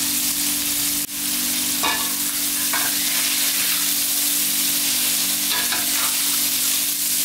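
Tilapia fish frying in hot oil in a pan, a loud steady sizzle throughout, with a few faint clinks of a utensil moving the fish and no talking.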